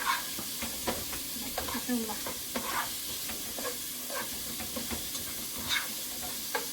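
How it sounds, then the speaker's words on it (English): Pork sautéing in a pan as filling for Filipino lumpia, giving a steady close sizzle and hiss with intermittent stirring scrapes, fairly quiet throughout. "as you can see, my pork is starting to cook"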